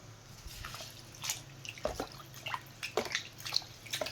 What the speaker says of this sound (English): I just throw it in a tub of water and rinse it up.